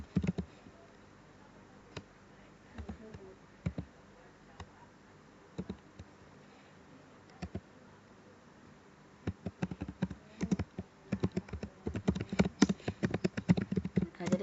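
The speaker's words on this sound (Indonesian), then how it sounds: "saya ketik dulu" Scattered clicks of computer keyboard typing, sparse at first and then coming in denser, quicker bursts toward the end, quiet and close with no talking over them.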